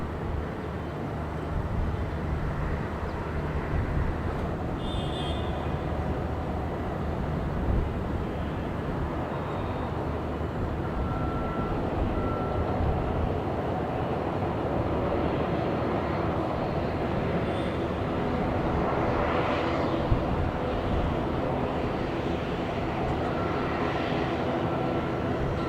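An airliner lands on runway 14 at Dhaka Airport, heard as a steady broadband jet roar that holds at an even, loud level throughout, with no talk over it.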